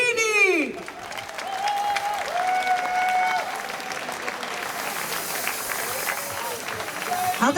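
Outdoor concert audience in a town square applauds an accordionist, a steady wash of clapping and some crowd noise that holds for several seconds, with instrument tones ringing above it.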